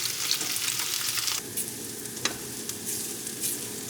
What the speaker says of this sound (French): je vais les réchauffer dans une poêle avec quelques épices